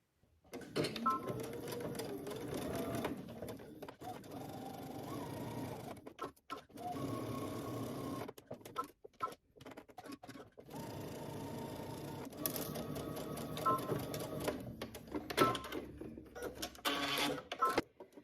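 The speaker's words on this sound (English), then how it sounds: "we're gonna stitch, starting at the top, back stitching using 5/8 of an inch seam allowance" A sewing machine stitches a 5/8-inch seam with backstitching at both ends, running in loud bursts broken by short pauses where the fabric is pivoted at corners.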